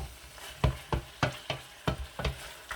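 A spoon stirs a spiced meat mixture for khada masala gosht in a pot, making a steady rhythm of about eight scraping strokes over a soft sizzling background.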